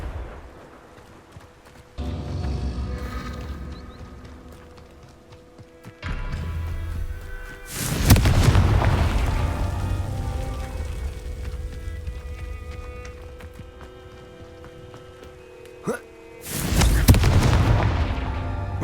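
Confringo blasting spells explode in a Harry Potter video game. Several loud booming blasts arrive a few seconds apart, each a sharp broadband burst that trails off into a rumbling decay.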